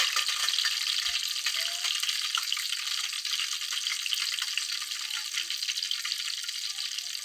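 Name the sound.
wet dung ash sizzling in hot ghee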